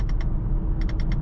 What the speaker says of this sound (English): So nice, these clicky sounds of the AC.